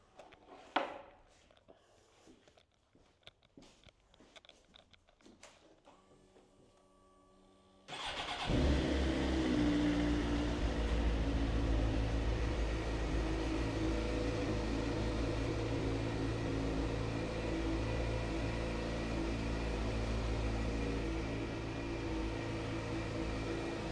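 After some clicking and handling, a Suzuki GSX-R1000 sport motorcycle engine with 17,000 km cranks and catches, then settles into a loud, steady idle that keeps running with a slight drop in revs.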